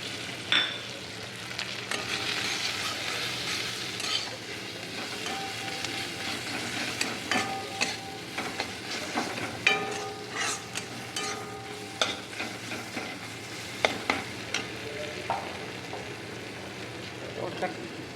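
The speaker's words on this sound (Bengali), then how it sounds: "ভাজা হয়ে গেছে, এবার শুকনো মশলাগুলো সব দিয়ে দেবো।" Spices sizzle in hot oil while being stirred, with steady frying crackle and scraping clicks of a utensil against the pan.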